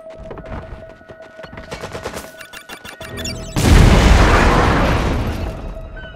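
Battlefield gunfire from the Red Alert 3 strategy game: scattered bursts and pops over a steady tone, then a loud, dense roar of fire or blast that slowly fades.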